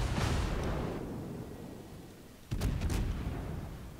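Naval artillery in a warship video game fires two heavy booming salvos, one at the start and a louder one a few seconds later, each followed by a rumbling tail.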